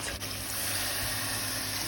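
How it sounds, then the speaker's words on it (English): Water poured into a cooking pot of Jamaican curried chicken with chayote and vegetables, a steady close splashing fill that runs without a break and with no talk. "Adding in some water to cover my pot."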